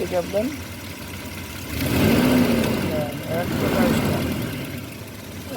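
A car engine runs close by and is revved twice, each swell rising and falling over a steady idle, while someone talks over the engine noise.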